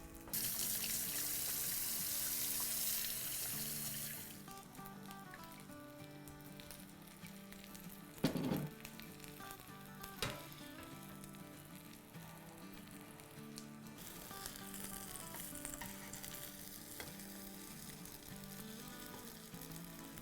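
Eggs fry in a pan with a bright, loud sizzle at first that fades to a softer crackle, while a kitchen tap runs steadily for handwashing nearby.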